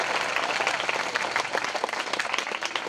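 A lecture audience at a Mahatma Phule and Savitribai Phule birth anniversary event claps in a dense, energetic burst of applause that fills the hall, steady and fairly loud throughout.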